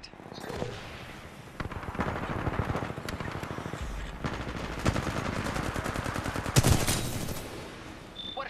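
Automatic weapon fire in the first-person shooter Titanfall 2 rattles in rapid bursts with sharp individual shots and impacts, loud and continuous, while a player talks briefly over it.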